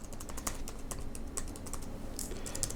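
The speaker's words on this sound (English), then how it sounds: "they just feel pretty satisfying when you're typing fast" Rapid, fast typing on a low-profile rubber-dome computer keyboard, a dense stream of light, quiet key clicks at close range with no voices.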